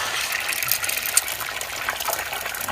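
Egg mixture seasoned with Italian seasoning is poured into the middle of a hot oiled pan, producing a bright, fizzy sizzle with light crackles and splatters that hold steady for a few seconds.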